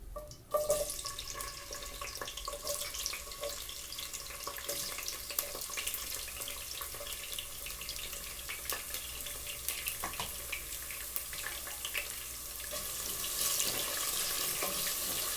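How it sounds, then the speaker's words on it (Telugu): Chopped onion pieces fry in hot oil for a South Indian lady finger and potato curry, a continuous moderate sizzle with scattered crackles and some stirring noise throughout, no voices. "ఆయిల్ హీట్ అయిన తర్వాత ముందుగా కట్ చేసి పెట్టుకున్న ఉల్లిపాయ ముక్కల్ని వేసుకోవాలి"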